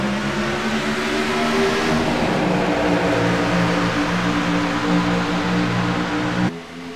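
Race cars pulling away at a green flag start, a dense close roar of engines revving and accelerating together, loud and sustained before cutting off abruptly near the end.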